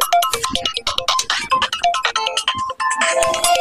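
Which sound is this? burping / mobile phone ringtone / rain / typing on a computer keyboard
mobile phone ringtone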